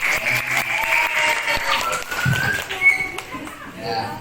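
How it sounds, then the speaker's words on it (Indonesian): A group claps at the close of a Pancasila lesson in a school setting, a short, uneven burst of applause with a voice talking over it and children's chatter around it. "terima kasih untuk Mbak Nila sama Mas Leo, tepuk tangan ya."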